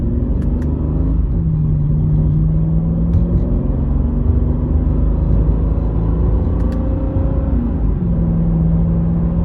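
A Mercedes E55 AMG with high mileage and a transmission tune pulls away from a dead stop. The engine note is steady and close, with rising harmonics as it accelerates, and a low road rumble runs underneath throughout.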